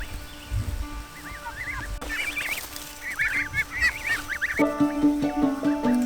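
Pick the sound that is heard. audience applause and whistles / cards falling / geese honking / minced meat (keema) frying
geese honking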